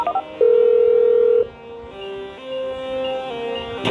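Phone keypad tones from a mobile being dialed in the video game GTA 5: a short burst of beeps, then one long steady tone, followed by a softer series of shifting dial tones, fairly loud and alone.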